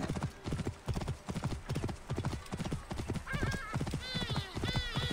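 Rapid, rhythmic hoofbeats of a galloping horse in Assassin's Creed Origins pound steadily throughout, with a few high whinnies breaking through near the end.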